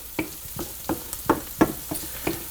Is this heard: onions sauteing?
yes